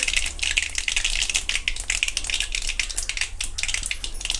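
Eggplant pieces crackling in hot oil while a rustic stuffed-eggplant curry cooks, a dense, steady patter of sharp pops and crackles running throughout, close and fairly loud with no talking.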